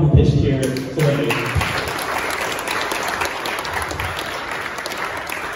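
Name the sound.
audience applause for pitching companies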